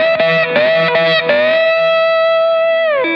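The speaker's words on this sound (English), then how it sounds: "If I didn't use any muting with my right hand, it would sound like this." Slide guitar played without right-hand muting, several quick slid notes followed by a long sustained note with other strings ringing underneath, loud, close and alone, ending with a short downward slide.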